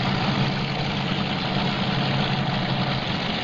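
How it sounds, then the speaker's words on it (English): Modified four-motor pulling tractor running Ford 572 cubic inch engines at a 1995 NTPA tractor pull in Fort Recovery: a loud, steady, unbroken engine roar with deep rumble and no change in pitch, heard alone. "Recap a Ford 572 cubic inch road area powering this modified tractor out of the state of Illinois"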